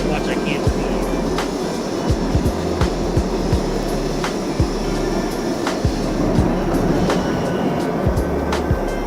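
A subway train runs in the OpenBVE train simulator on the Q line toward 96th Street: a steady low rumble with scattered clicks and rail joints ticking past at an even, moderate level.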